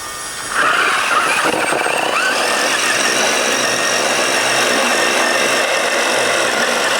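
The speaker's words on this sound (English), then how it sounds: "ensuring that my cable wasn't winching in a funny way" The winch on a 1/10th scale Capo Ace 1 4x4 RC rock buggy kicks on after a brief pause and reels in its cable with a steady, close, high-pitched motor whine and slight squeal.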